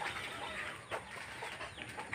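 Chickens cluck in a yard beside a banana grove, with a few short soft calls rising over steady outdoor background noise; no voices are heard.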